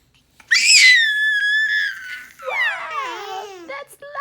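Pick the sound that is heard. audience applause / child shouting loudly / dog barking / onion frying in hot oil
child shouting loudly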